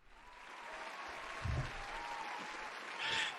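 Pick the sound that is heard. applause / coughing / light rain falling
applause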